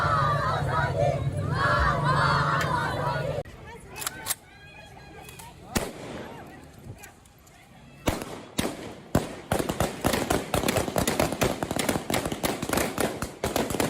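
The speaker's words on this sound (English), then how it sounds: "women in Kabul protested their treatment, chanting, "We want work, bread, and freedom."" A crowd of women protesters in Kabul chants loudly at first, then the chanting gives way to scattered sharp bangs and rapid bursts of gunfire amid crowd noise.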